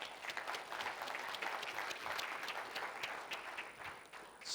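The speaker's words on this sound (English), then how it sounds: "we'll start with a round of applause for the People Matters team" A conference audience gives a sustained round of applause for the organising team, steady dense clapping from many hands throughout, moderately distant and even in level.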